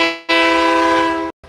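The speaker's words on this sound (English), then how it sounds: "Here's that train coming." A close, loud train horn blasts in one long sustained chord for about a second, then cuts off abruptly, followed by a short burst of passing rail noise.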